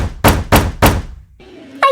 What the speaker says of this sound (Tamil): யாரோ கதவை தட்டுறாங்க